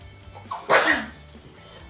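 A single sharp sneeze bursts out close by, brief and loud against a quiet room.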